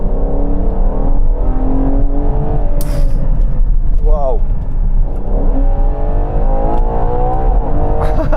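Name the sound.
Ferrari Purosangue V12 engine revving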